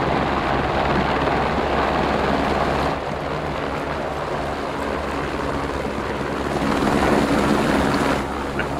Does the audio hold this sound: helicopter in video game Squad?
yes